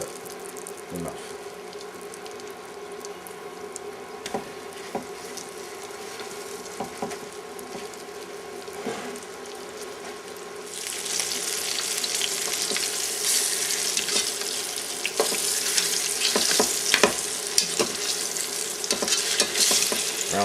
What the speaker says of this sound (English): we're going to brown the rabbit in the bacon fat